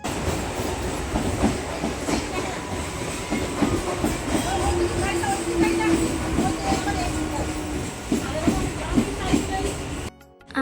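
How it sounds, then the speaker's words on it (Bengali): Krishnanagar local train passing through a station, a loud close rumble and clickety-clack of wheels with a faint squeal, while people talk nearby. "ওইখান দিয়ে যাচ্ছিল কৃষ্ণনগর লোকাল দেখ"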